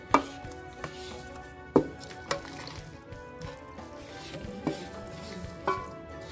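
A spoon stirs a thick mixture of sugar syrup and rice flour in a pot for rice ladoos, knocking against the sides at irregular intervals, up close.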